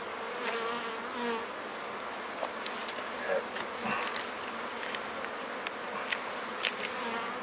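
A dense, continuous buzz of many Carniolan honeybees at an opened hive fills the air, close and steady, with individual insects whirring past now and then.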